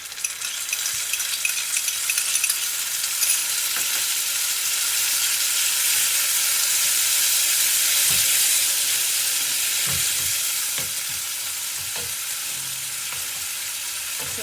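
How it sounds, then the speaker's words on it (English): Chopped tomatoes fry in a pan with turmeric and salt for Anglo-Indian pepper water, giving a steady close sizzle and hiss with occasional stirring clinks throughout. "So let this fry well"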